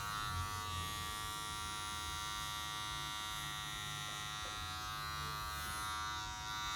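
Electric hair clippers fitted with a number 3 guard, lever all the way up, cutting hair in an undercut pixie style, giving a steady close buzzing whine that holds level throughout with no speech.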